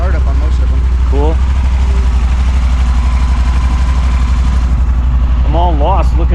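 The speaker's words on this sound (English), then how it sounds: "Still a dry sump motor, but not bad at all. Nice and smooth startup on most of them." A 2012 Yamaha Super Tenere motorcycle idles with a loud, steady low rumble, and someone talks over it.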